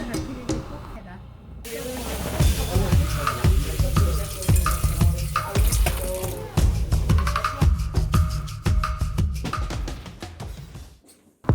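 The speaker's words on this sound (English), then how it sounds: "Then we fry up all the ingredients separately and strain them to remove the juices" Eggroll filling ingredients frying in a pan, a steady sizzle with stirring and scraping clatter running throughout, with a voice talking over it.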